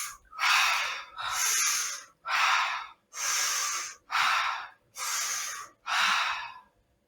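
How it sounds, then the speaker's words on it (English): Seven deep breaths are drawn in and pushed out through the mouth with a sucking action, like pulling through a straw. Each breath is a long, loud, airy rush with a short pause between, steady and close, and no one speaks. "Third one is inhaling it through the mouth with a sucking action"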